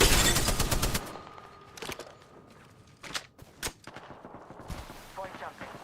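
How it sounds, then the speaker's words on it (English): Rapid bursts of video game gunfire from smart bullets hunting enemies, loud volleys up front followed by scattered sharp shots and impacts, close and dense. "Smart bullets hunting foes."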